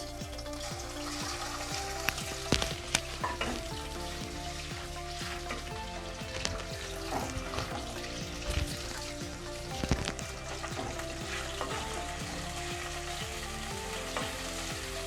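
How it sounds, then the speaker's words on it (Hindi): Chicken sizzles steadily in hot oil, a dense, continuous crackle with occasional sharper pops, close up and with no talking. "ऑयल गर्म होने के बाद मैं इसमें चिकन शामिल करूँगी।"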